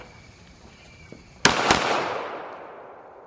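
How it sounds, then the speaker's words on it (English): A Kel-Tec PMR-30 pistol fires at a shooting range, giving two sharp, loud reports about a quarter second apart. Each crack is followed by a long decaying echo, with no talk. "we're going to try and run 30 rounds as quickly as we can."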